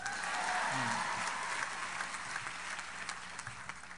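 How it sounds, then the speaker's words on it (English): An audience at a college talk breaks into applause, a dense wash of clapping that swells at first and then gradually tapers off. "Well, let's go by applause."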